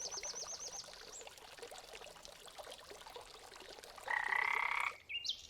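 Cartoon frog croaking in a children's fairy tale, a quick run of rhythmic ribbits followed by a brief pouring, trickling water sound, fairly close and clear with no speech.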